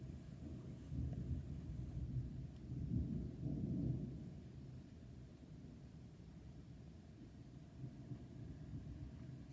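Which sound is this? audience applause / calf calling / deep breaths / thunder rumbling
thunder rumbling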